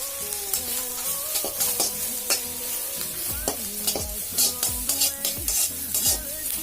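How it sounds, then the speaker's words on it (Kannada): Baby corn frying in a hot pan with salt, garam masala and noodles masala, a steady loud sizzle broken by frequent scraping stirs and the clatter of a spatula against the pan, with no one speaking. "ಉಪ್ಪು, ಗರಂ ಮಸಾಲ ಮತ್ತು ನೂಡಲ್ಸ್ ಮಸಾಲ ಇದನ್ನೆಲ್ಲ ಹಾಕಿ ಒಂದು ಸ್ವಲ್ಪ ಫ್ರೈ ಮಾಡ್ಕೊತೀನಿ."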